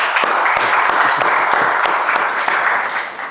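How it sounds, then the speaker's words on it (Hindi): A studio audience applauds to welcome actor Vikram Kochar onto a talk show, steady close clapping that holds for a few seconds before beginning to thin out, with no one speaking. "तो जोरदार तालियों के साथ स्वागत कीजिए बहुत अच्छे एक्टर और बहुत ही प्यारे आदमी मिस्टर विक्रम कोचर का।"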